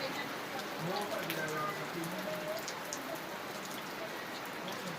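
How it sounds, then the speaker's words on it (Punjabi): Rain falls steadily in a soft, dense patter, with faint voices murmuring underneath at a distance. "ਹੁਣ ਰੱਜ ਬਾਰਸ਼ ਪੈ ਰਹੀ ਹੈ"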